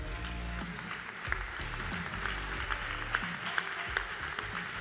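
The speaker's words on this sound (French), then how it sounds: "Et ça s'applaudit bien fort." An audience at a plaque unveiling applauds in a steady, dense burst of clapping that holds for several seconds at a fairly even level, close and enthusiastic.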